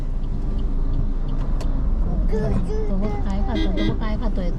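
A vehicle rumbles past on the Mumbai-Goa highway near Karnala, loud and close, as people talk over the passing traffic.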